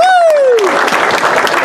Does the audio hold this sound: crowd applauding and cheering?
yes